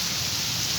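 Rain pours steadily in the late afternoon outside a regency government office, a dense even hiss with no talk over it.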